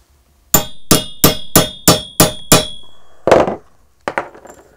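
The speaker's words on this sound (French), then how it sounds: "C'est pour taper mes têtes de rivet." Seven sharp, evenly spaced hammer strikes on leather rivet heads set over a rounded anvil while making a leather water flask, followed by a scraping rustle and a few lighter, quicker taps; close and loud, no talking.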